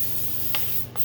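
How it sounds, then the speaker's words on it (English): Aerosol lubricant sprayed onto a coil spring compressor in a garage, two short hissing bursts over steady background hum, the first longer and louder, the second brief. "I'm gonna start off by just hitting this thing with a good amount of lube on it."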